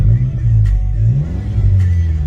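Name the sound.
Audi S3 engine revving, heard from inside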